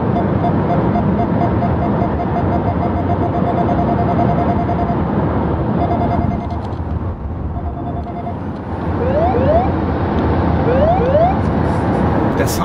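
A second-generation Nissan Leaf sounds its hands-off driver-assist warning, a series of short, evenly spaced electronic beeps over steady road noise inside the car, followed later by quick rising chirps.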